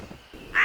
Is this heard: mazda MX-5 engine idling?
no